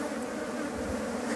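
Honeybees buzz steadily and close up inside the nursery of a hive, where nurse bees tend larvae; a dense, continuous hum with no voices.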